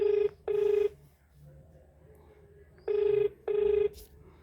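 A telephone rings in two pairs of short, loud electronic bursts separated by a pause, with faint background noise between rings.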